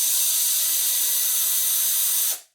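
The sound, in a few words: screws being removed from ECX Torment RC truck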